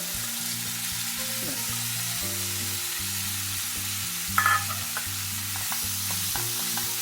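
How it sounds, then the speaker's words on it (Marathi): Khoa, soft milk solids, roasting in a spoonful of ghee in a pan for mawa modak, a steady low sizzle with a brief scraping clatter of stirring midway; no talking. "यामध्येच खवा भाजून घेते अगदी थोडंसं एक चमचा तूप घालते"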